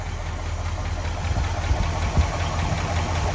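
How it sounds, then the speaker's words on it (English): Steady close idle of a 1964 Ford F100 truck engine, a continuous low rumble with slight uneven knocking pulses and no talk over it. "listen to it idle"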